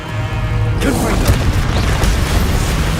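Loud, dense crackling blast of the Confringo spell in Hogwarts Legacy, a booming, rumbling burst that fills the whole moment with mechanical rattle and pops.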